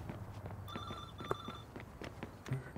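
A telephone rings in the video game Watch Dogs 2, with two short electronic ring bursts, moderately loud over game background noise and scattered footsteps.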